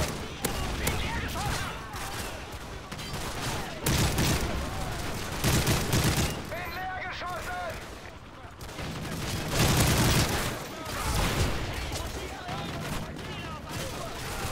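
Bursts of rapid gunfire and explosions crackle in Call of Duty: Modern Warfare 3, with people talking over the chaotic shooting.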